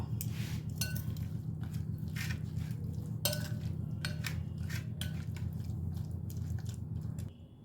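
Egg bati chochchori ingredients are mixed by hand with mustard oil and Kashmiri chilli powder in a bowl, giving repeated wet squishing and light clinks over a steady low hum, with no talk.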